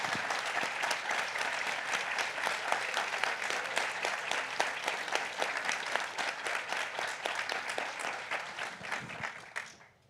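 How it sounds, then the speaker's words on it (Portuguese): An audience at an authors' talk applauds warmly, a dense continuous wash of clapping that stays steady for several seconds and then tapers off at the end. "uma salva de palmas nossas, dos autores, a vocês"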